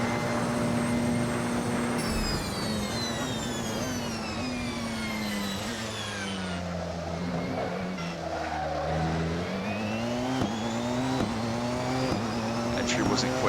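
A Porsche 919 race car engine in Assetto Corsa screams at high revs with rising and falling pitch sweeps through upshifts and downshifts, loud and continuous, dropping through a braking zone before climbing again on the exit.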